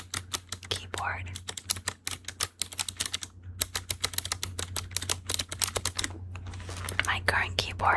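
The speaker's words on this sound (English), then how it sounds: "It's a satisfying keyboard." Rapid clacky keystrokes on a Razer Pokemon keyboard, close and crisp, in quick bursts with brief pauses, while someone speaks softly underneath.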